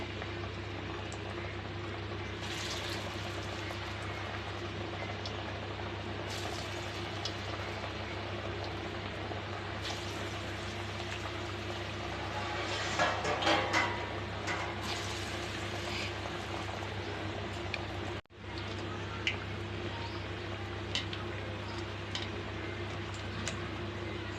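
Cassava and chana dal vadas fry in hot oil, giving a faint, steady bubbling sizzle that stays low and even, with a few brief clicks and a short rise in the middle.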